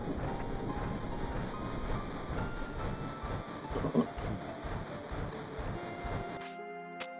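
A train rumbles along in Final Fantasy VII, a continuous rolling clatter with a rhythmic rattle of carriages, moderately loud, then cutting off abruptly near the end.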